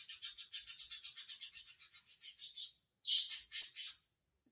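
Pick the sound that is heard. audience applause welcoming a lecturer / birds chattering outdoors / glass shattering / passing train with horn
birds chattering outdoors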